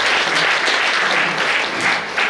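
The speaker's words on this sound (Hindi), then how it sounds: "आप लोग उन दृष्टियों के लिए एक बार जोरदार ताली बजाकर" A hall audience at a Jain religious gathering in India claps in loud, dense, steady applause that fills the whole short stretch without a break.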